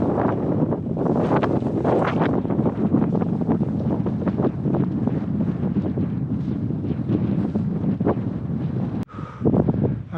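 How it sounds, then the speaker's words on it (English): Strong wind gusts across an open hillside, roaring and buffeting the microphone close up in a loud, continuous rush with a brief dip near the end. "Wind picked up again"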